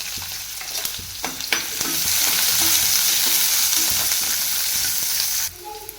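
Cumin, garlic and onion fry in a pan with a steady, fairly loud sizzle, punctuated early by sharp clicks and scrapes of stirring, the hiss swelling then cutting off abruptly near the end.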